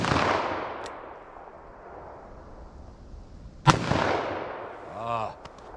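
Two sharp, distant-sounding revolver shots, one firing 10mm and the other .44 Magnum, crack several seconds apart outdoors, each with a trailing echo, with quiet ambience and a faint whine in between.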